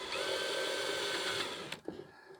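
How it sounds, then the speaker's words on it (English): Power drill pre-drills holes in wood for a decorative three-piece wedding backdrop, a steady close high-pitched whir that stops abruptly near the end, followed by a few light knocks. "I'm just going to quickly pre-drill."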